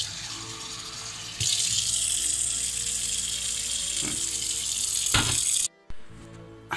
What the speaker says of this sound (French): Maintenant, je vais remplir mon verre avec de l'eau.